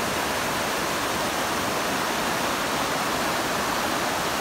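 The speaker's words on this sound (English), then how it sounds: "Welcome to the waterfall," Catarata Juco waterfall in Mastatal, Costa Rica, makes a dense, continuous roar of falling water, loud and close with an even wash of sound and no voices.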